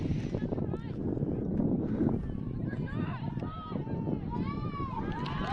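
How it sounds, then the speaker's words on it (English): Strong wind buffets the microphone at an outdoor girls' junior varsity soccer game, a loud rumbling roar that runs throughout, with voices and shouts from the field mixed in. "I think the wind's too strong at this point"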